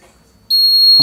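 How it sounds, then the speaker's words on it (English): A DIY fingerprint door lock's buzzer gives one loud, steady electronic beep that starts abruptly halfway through and holds to the end, close and clear, after a brief quiet stretch. "okay, buzzer working"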